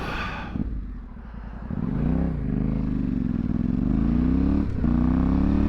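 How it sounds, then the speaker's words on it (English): A Yamaha Tenere World Raid motorcycle pulls out of a village, its engine revving up with rising and falling pitch sweeps and a brief clatter between gears, close and fairly loud. "This is a good place for ripping out of that village on your bike."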